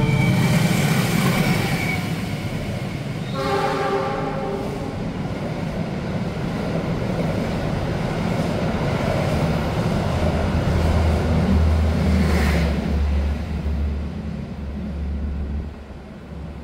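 Gajahwong economy-class passenger train running on the rails, a loud continuous low rumble and roar with rolling wheel noise, a brief tonal horn-like passage early on, steady and close throughout.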